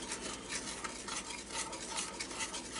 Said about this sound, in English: Stir this until smooth